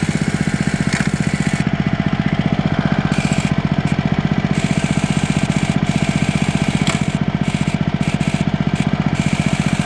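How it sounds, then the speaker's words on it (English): A homemade outboard motor with an air-cooled engine idles a little high, giving a steady, fast chugging putter that stays even and close throughout with no talking. "But it works as a standard outboard motor. But it has an air-cooled engine."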